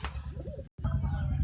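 Crested pigeons cooing close by, a short rolling coo that rises and falls, followed after a brief cut by a buzzy, noisy stretch with more bird sounds.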